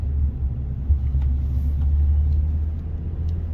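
A 2017 Ram 1500 pickup, with an oil pressure fault, idles at a stoplight with a loud, steady low rumble heard from inside the cab, and there is no revving.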